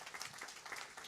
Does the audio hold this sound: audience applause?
yes